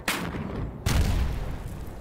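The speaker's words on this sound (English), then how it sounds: "Mortars." Mortar rounds landing in the Panzer Battles Normandy wargame, two sharp booms about a second apart, the second heavier with a rumbling low tail, loud and close with no voices.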